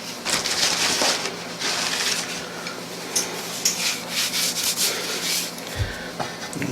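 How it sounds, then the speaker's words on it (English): A rolling pin is pressed lightly over pie dough for mini apple pies, giving a steady soft rubbing, scuffing sound up close with no talking. "we're gonna take the rolling pin very lightly, not too hard"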